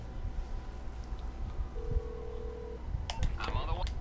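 Phone keypad dialing in Grand Theft Auto V: a quick run of electronic tones comes after a steady held beep, set against a low rumbling game background with no talking.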